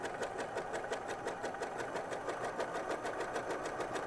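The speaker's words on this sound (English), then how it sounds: "and just sewing along." A sewing machine stitches sweater knit fabric for a cardigan, its needle running in a fast, even mechanical chatter of rapid regular ticks, close and steady, with no talking.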